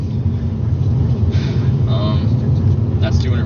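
Manual-transmission car engine rumbles steadily at close range while gears are shifted, the engine tone easing and changing as the clutch goes in and second gear engages, with a voice talking over it.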